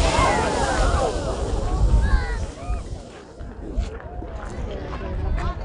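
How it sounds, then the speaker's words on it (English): A geyser in Iceland erupts with a surging, splashing rush of water, while excited voices talk and exclaim over the noise. "We're at the geysers in Iceland, and we're watching water go up"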